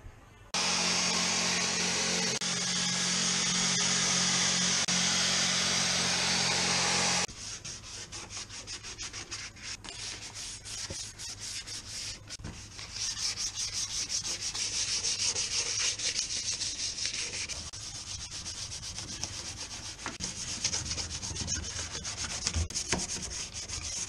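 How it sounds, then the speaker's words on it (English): Steady abrasive sanding of rusted metalwork on a classic Mini estate being rubbed down for primer, loud and continuous for about seven seconds, then a rougher, quieter scraping and rubbing texture carries on close by. "All of the cure rust has been rubbed down, hopefully give a better surface for the primer to adhere to."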